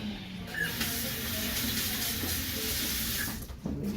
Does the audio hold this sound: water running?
yes